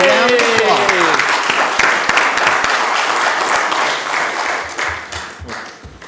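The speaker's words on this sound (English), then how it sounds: "We owe her a round of applause." Applause fills a county commission meeting after a woman is elected president of the state association of county clerks, steady dense clapping close and loud throughout, fading slightly toward the end, with a voice briefly audible over it at the start.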